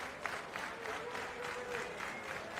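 Sold-out arena crowd at a Los Angeles pro wrestling main event applauding and cheering, a steady dense wash of clapping and crowd noise throughout, fairly distant and even in level.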